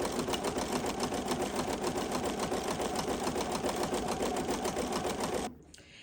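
An embroidery machine stitches a navy sampler block with wide jump stitches, a loud, close, rapid mechanical chatter that holds steady for several seconds before cutting off abruptly.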